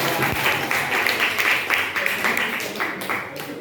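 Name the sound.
applause for the presenting group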